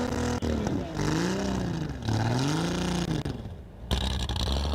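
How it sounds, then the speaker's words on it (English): A loud race car engine at a Speedweek land-speed event, likely a Studebaker Commander, revs up and down in repeated sweeping waves, rising and falling in pitch, with a brief drop before climbing again. "Car number 6302 on course number 2 is fired up."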